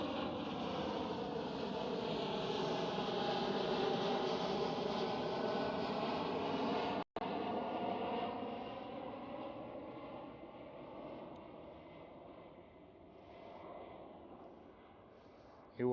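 KLM Cityhopper Embraer E195-E2 jet at Schiphol Amsterdam, a steady broadband engine roar with whining tones that fades slowly as the aircraft moves off, heard alone at moderate distance.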